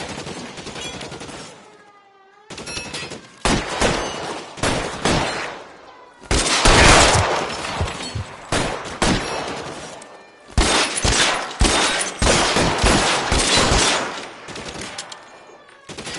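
Gunfire in a shootout in LA Noire: loud rapid bursts of shots, some sharp single cracks and some dense volleys, broken by short gaps, going on for about sixteen seconds with no voices.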